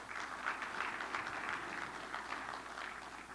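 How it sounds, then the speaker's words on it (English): An audience at an information session applauds, a faint, moderately dense patter of clapping that holds steady and tapers slightly toward the end. "give yourselves a little applause there"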